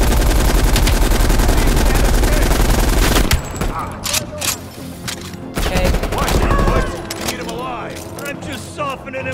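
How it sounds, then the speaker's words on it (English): Light machine gun fire in the Call of Duty Black Ops Cold War campaign, a loud sustained burst for about three seconds followed by shorter bursts and scattered shots, with a player talking over the action. "Got an LMG."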